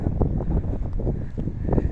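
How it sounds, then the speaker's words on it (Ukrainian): Gusty wind buffets the microphone in irregular low thumps and rumbles, close and steady throughout, on a street in the small town of Stellarton, Canada. "Вітер, мабуть, буде погано чути."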